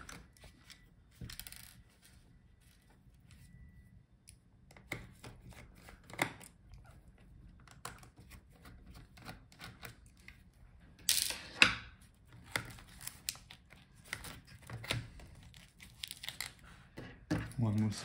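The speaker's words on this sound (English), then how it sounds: "Actually, first take out all the screws." Small screws being backed out of an MSI Modern 14 B10MW laptop give faint, scattered clicks and light metallic ticks. The sounds are sparse and intermittent against a quiet background.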